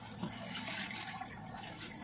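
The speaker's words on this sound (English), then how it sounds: "Okay, turn off the faucet." Water runs from a faucet in a home setting, a steady full hiss and splash that continues for the whole stretch, with no voices over it.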